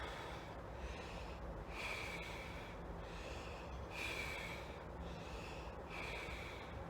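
Heavy, laboured breathing after a punching workout, a series of rhythmic sharp inhales and gasping exhales repeating about every second, close but fairly quiet, with no talking.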